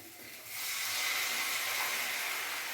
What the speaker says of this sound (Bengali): এবার আমি পরিমাণ মতন জল দিয়ে দেবো